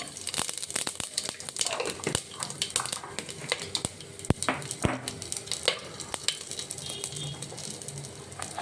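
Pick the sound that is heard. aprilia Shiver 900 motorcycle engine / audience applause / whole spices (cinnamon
whole spices (cinnamon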